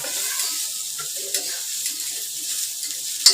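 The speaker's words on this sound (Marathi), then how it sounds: "आता हा कांदा आहे ना मी चांगला भाजून घेते।" Onion and garam masala roasting in a pan for black-eyed pea curry, a constant soft sizzle with stirring scrapes and a sharp utensil clink at the end.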